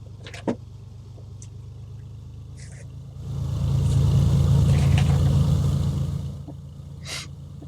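A Beechcraft A36 Bonanza piston engine in the FSX flight simulator, on the runway, swells into a loud sustained rev for about three seconds, then falls back to a quieter idle.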